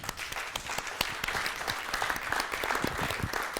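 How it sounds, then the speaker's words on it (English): An audience at a welcome address gives warm applause for Prof. Joe Taylor, K1JT, many hands clapping in a dense, steady patter that holds for several seconds with no talk. "Please give him a very warm applause."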